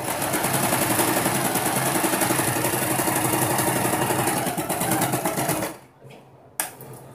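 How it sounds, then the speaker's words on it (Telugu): A sewing machine stitches a pleated puff sleeve border with a fast, steady mechanical chatter, running continuously for over five seconds before stopping, followed by a brief handling click. "అట్లే ఫ్రీగా కుట్టేసేయండి దాన్ని"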